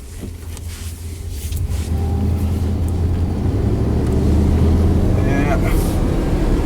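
A 1990 Chevy 1500 pickup with known problems, including bubbling in the radiator, drives along as its engine rumbles steadily and rises in pitch while the transmission shifts. Someone briefly speaks over the engine noise.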